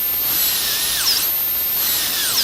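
A dental rotary drill prepares a gold crown with a loud, close, high whine that runs steadily. Its pitch dips briefly twice as the bur presses against the metal, and no voices are heard.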